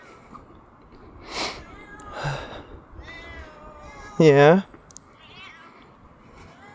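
A cat gives a clear, loud meow partway through, with a few softer cat sounds earlier, while someone speaks briefly nearby, at night in an abandoned Japanese village.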